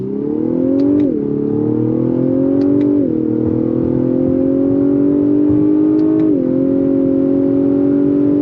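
A 2023 Lexus LS 500 F Sport accelerates hard from a stop, its engine droning loud and close, climbing steadily in pitch with three brief dips at each gear shift.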